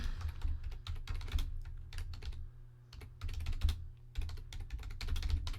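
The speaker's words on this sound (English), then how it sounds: "I'm going to finish typing the question, and then I'm going to type the answer" Rapid, uneven clicking of keys on a computer keyboard as someone types, running in bursts with a short pause midway, fairly quiet and close.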